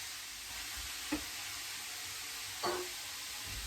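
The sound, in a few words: onions frying in a pan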